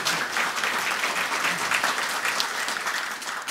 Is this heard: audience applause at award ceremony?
yes